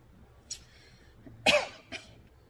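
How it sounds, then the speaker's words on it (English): Three coughs over quiet background noise: a short one, a louder harsher burst, then a softer final cough. "Don't know why I started coughing again today."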